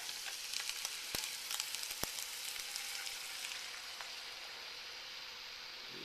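Heavy whipping cream poured into a hot pan with chicken for stuffed chicken Florentine, giving a steady close broadband sizzle and frying hiss with a few sharp crackles and pops, no voices.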